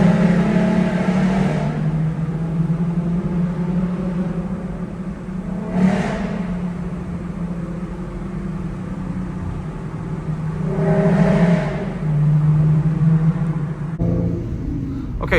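A 2014 Ford Mustang V6 with a loud exhaust drones steadily from inside the car on a late-night city drive, swelling in a few brief revs and surges over a constant low engine rumble.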